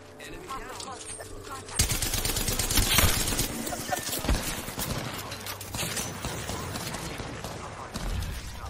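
Rapid bursts of automatic gunfire and scattered single shots in the video game Apex Legends, loud and dense after a quieter start, with players talking over the shooting.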